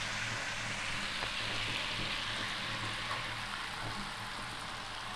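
Spices and an onion-tomato paste go into a hot frying pan for an omelette curry, giving a steady, even sizzle throughout with no talk.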